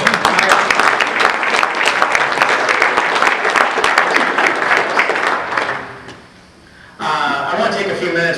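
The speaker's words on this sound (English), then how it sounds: "So big round of applause for Josh Burgett." An audience claps in sustained applause for several seconds at a Michigan International Speedway event with NASCAR drivers. It fades near the end, and then a voice begins speaking.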